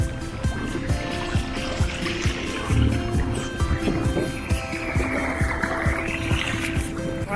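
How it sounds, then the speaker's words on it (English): A small dinghy motoring across the water carries a steady outboard drone with rhythmic slapping of the hull on small waves, close and loud with wind noise. "We're on our little dinghy ride."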